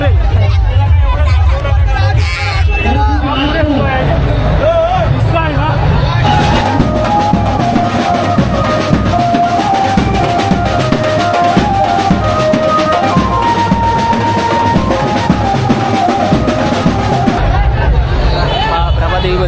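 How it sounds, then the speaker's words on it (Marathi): A large Dahi Handi festival crowd in Prabhadevi, Mumbai produces a loud, unbroken din of mingled voices and shouting. Tonal, music-like lines run through the dense noise from start to finish. "प्रभादेवीमध्ये गर्दी"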